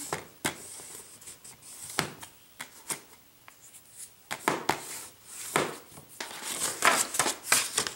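Paper is folded and creased by hand for a handmade blank journal, giving close, crisp rustles, crinkles and sliding swipes in irregular bursts with brief quiet gaps, and no one speaking.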